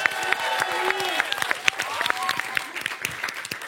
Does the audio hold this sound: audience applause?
yes